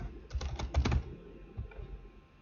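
Quick bursts of computer keyboard typing while text is entered into a chart title in a spreadsheet, with a cluster of clicks and then a quieter stretch.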